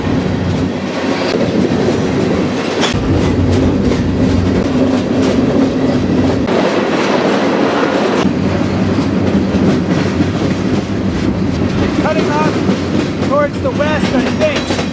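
A freight train rolls steadily past on the tracks near Atlanta, with a loud rumble, rhythmic clickety-clack, and brief wheel squeals toward the end.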